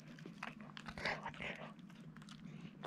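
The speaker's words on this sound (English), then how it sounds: "I can definitely hear a difference and they're chewing on it" Dogs chew freeze-dried dog treats close by, giving repeated irregular crunches and biting sounds over a steady low background hum.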